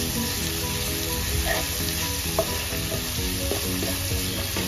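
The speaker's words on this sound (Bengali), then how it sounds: "এটাকে এবার একটু ফ্রাই করে নেবো এগুলোকে একটু" Chilies and fresh basil frying for Thai pad krapow gai: a dense, continuous close-up sizzle with faint knocks of stirring underneath and no speech.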